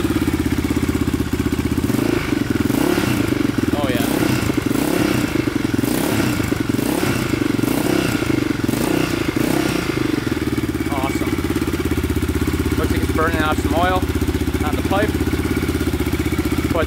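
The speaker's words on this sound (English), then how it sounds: "Sounds like it's running pretty good, idling perfect." A Yamaha Raptor 660 quad's engine idles steadily and loudly up close, a continuous rough, throbbing rumble with mechanical clatter that holds the whole time.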